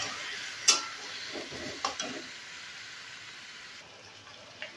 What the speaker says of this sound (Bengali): এরপর মশলা দেবো আদা, হলুদ, লঙ্কা, জিরে, ধনে। মিশিয়ে নেবো ভালো করে